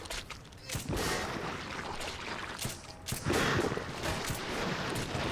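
Gunfire from Metro 2033 cracks in several sharp close shots spread over the stretch, over dense ambient game noise and rumbling.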